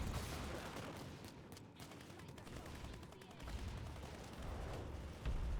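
Gunfire rattles in the online shooter Planetside 2, fairly faint, with rapid bursts of automatic weapons and thuds running almost continuously through the whole stretch.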